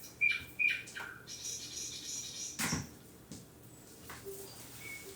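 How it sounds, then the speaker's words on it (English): Small birds chirp and tweet in a quiet setting, a few sharp close calls at the start followed by fainter scattered chirps and a brief squawk, low in level against soft background hiss. "Let me turn the birds down."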